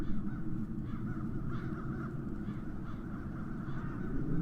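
Several crows caw repeatedly at a moderate distance in the video game The Dark Eye: Chains of Satinav, harsh calls spaced out over a constant low rumbling background.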